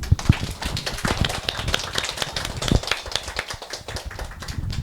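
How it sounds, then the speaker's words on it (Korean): A book-talk audience applauds the five authors of a science-fiction short story anthology, steady moderate clapping from a modest indoor crowd, continuous and fairly close, with a few sharper claps standing out. "박수 한번 주시죠"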